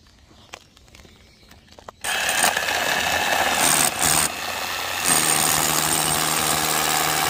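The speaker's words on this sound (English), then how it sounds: "while they're drilling the holes" A loud, steady mechanical drilling noise kicks in after a quieter stretch with a few knocks, grinding on continuously with brief surges in intensity, while holes are drilled on a steel Quonset building.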